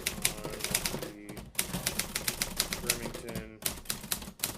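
Brisk typing on a Remington Quiet-Riter typewriter from the early 1950s, rapid clacking keystrokes in bursts with a couple of brief pauses, close and fairly soft, with a voice faintly present.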